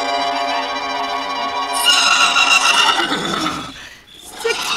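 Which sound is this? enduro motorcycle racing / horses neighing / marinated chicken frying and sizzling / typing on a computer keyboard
horses neighing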